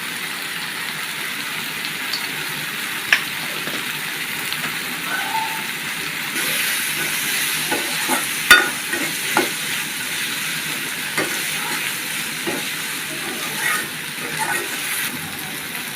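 Ground cumin and coriander powder sizzle in a hot pan while being stirred, a steady close frying hiss broken by occasional scraping clicks of the spoon, with no voices.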